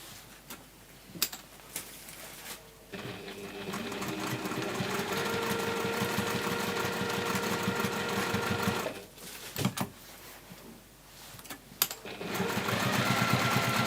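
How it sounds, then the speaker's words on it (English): A sewing machine top stitching around a fabric hexagon flap bag hums in a fast, even mechanical chatter. It runs continuously, pauses briefly with a few clicks, then restarts, close and without speech. "I'm just going to top stitch, around"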